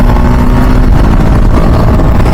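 A TVS Apache RR310 motorcycle running at high speed near its 170 km/h top end, with a loud, dense, steady engine drone and heavy roar close to the microphone, with no voices.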